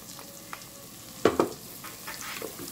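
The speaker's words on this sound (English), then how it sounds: "So now the onions is cooking so nicely." Onions and garlic frying in a pan for bacon rice, with a low continuous sizzle and a couple of louder scraping stirs near the middle.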